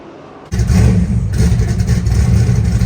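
A purpose-built drag-and-drive car's engine turns over and catches, then revs steadily with a loud, rumbling drone that rises and holds for a couple of seconds.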